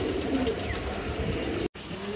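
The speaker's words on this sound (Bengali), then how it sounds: "তো কবুতরটা নিচে নামছে" A pigeon coming down to land, soft cooing over a steady noisy background with a brief dropout near the end, moderately close.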